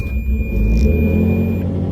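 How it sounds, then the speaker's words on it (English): A Ferrari 360 engine runs loudly and close by, a deep steady rumble with a slight rise in revs partway through, with no voices. "Okay, we started the car."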